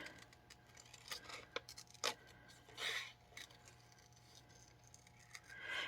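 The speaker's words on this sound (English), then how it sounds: "I'm going to bring in my paper snips, and I'm just going to roughly do a cut all the way around this image" Paper snips cutting roughly around a printed image: quiet, close snipping and crisp paper rustles come in short irregular bursts with small pauses between cuts.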